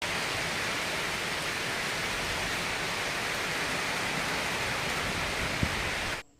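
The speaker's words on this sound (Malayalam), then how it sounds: "ഭയങ്കര മഴയാണെന്ന് തോന്നുന്നു നല്ല കാറ്റും നല്ല ഇടിയും വെട്ടുന്നുണ്ട്" Heavy rain pours down with wind in a dense, steady hiss that stays constant and close before cutting off abruptly at the end.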